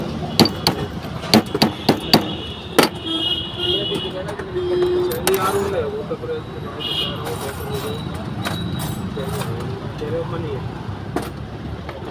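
A hammer striking during a car door lock repair, with several sharp metallic knocks in a quick burst at the start and scattered blows later, over road noise and people talking nearby.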